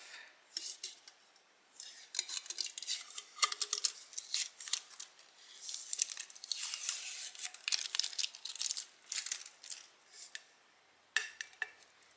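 A freshly sublimated neon 20oz skinny tumbler is unwrapped, giving close, irregular bursts of tearing, crinkling and snipping that come in clusters with short pauses between them, and no talking.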